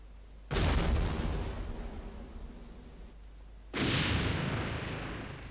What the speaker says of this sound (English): we can use the cannons to shoot these guys